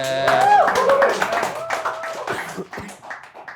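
A brief round of clapping for the singer in a casual talk-show studio, a few light taps that follow and trail under a speaking voice.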